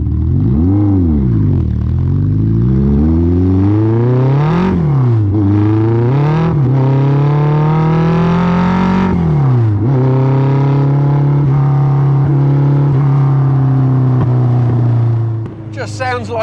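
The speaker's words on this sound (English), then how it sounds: "Just sounds like a chainsaw, that engine." A TVR Cerbera engine revs hard and continuously for the whole stretch, pitch sweeping up and down several times before settling into a steady high drone, close and loud with a chainsaw-like rasp.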